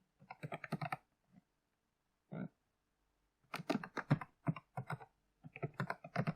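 Typing on a computer keyboard at close range: quick bursts of crisp key clicks separated by short pauses, with no speech over it.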